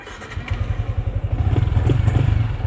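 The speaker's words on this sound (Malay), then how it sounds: "Okey, cuba hidup motor." A Yamaha Y16 motorcycle engine fires up in a repair shop after a keyless key replacement, settling into a close, steady, throbbing idle that grows slightly louder and quicker toward the end.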